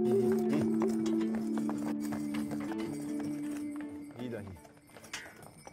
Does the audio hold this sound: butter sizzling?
no